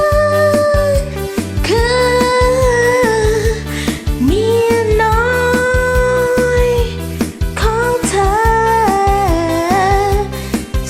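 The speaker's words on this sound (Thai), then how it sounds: "นี่คือเสียงที่ร้องกับแอปพลิเคชันร้องเพลงปกติ" Singing recorded with an ordinary karaoke-style singing app: a wavering sung melody over steady backing music with a regular beat, loud and continuous throughout.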